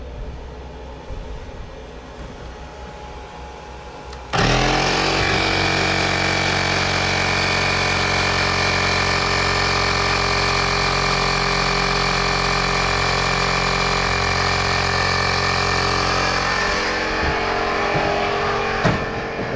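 A plugged-in electric pump kicks on abruptly after a few quiet seconds, then holds a loud, steady mechanical drone with a low hum until the end.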